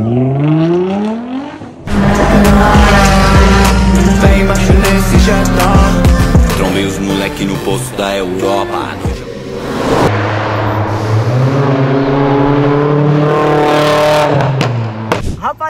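A purple 1,100-wheel-horsepower Nissan GT-R and a Toyota Supra pulling away on Avenida Europa, loud close engines revving hard through rising gear pulls and backing off, with a voice talking over part of it.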